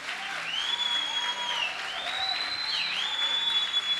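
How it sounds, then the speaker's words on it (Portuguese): A church congregation applauds during an evangelical service. The clapping is sustained and fairly even, and a high, wavering feedback-like tone rings over the crowd noise. "Eu acho que Jesus merece uma salva de palmas mais forte."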